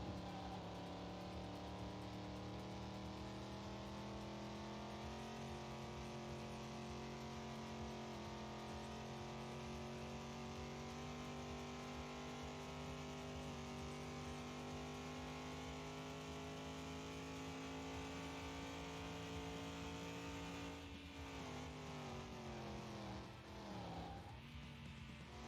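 A Buick car driving with its engine droning steadily, harmonics slowly rising as it picks up speed, then shifting pitch sharply near the end as the driver changes gear or eases off.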